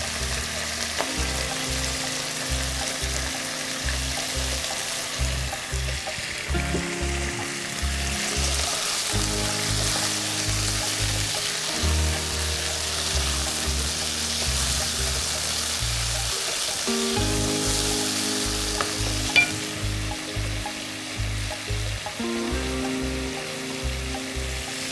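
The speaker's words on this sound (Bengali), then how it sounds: "আমরা বোনলেস চিকেনটাকে ভাজছি এখন, একটু গোল্ডেন কালারে আসলে আমরা অন্য কিছু উপকরণ দিয়ে দিব" Boneless chicken pieces fry in a pan with a continuous, even sizzle that sits under steady background music throughout, with no one speaking.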